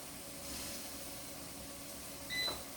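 A quiet air fryer hum and faint hiss, then a single short electronic beep as the fry setting is selected near the end, close and clear against the low background.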